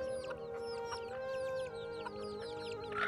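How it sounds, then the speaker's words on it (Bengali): Local chickens cluck and chirp inside a small home-built coop, a dense chatter of repeated short calls over a low steady hum, moderately faint with no speech. "এরকম ভাবে ঘরের ভিতরে মুরগি থাকে"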